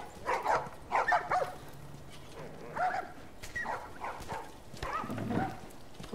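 Dogs bark in The Last of Us video game, several short clustered barks and whimpers in uneven bursts, moderately loud against a murmuring background.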